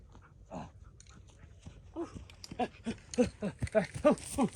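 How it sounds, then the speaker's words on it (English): An excited dog whimpers and yelps in a garage while a 1972 Ford F250 is being primed with rattle-can paint, the whines starting sparse and growing into a quick, close run of high cries. "the dog is getting excited"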